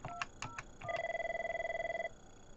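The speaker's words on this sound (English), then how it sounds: "We'll start by calling Kim" Telephone on an Avaya IP Office system: a few quick dialing tones, then a steady pulsing ring tone for about a second, close and clean.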